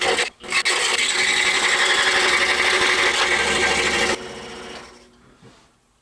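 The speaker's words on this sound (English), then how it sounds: "So just take it very slowly and cut around the entire perimeter of your bumper pieces." A saw blade cuts around wooden bumper pieces for a 1929 Ford stake bed toy truck. It makes a steady, loud rasping buzz for about four seconds, then drops to a quieter whine that fades out.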